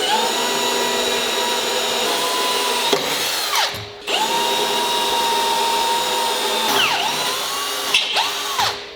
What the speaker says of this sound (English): start with a small bit and get some pilot holes drilled